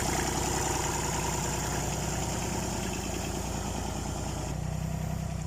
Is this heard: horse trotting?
no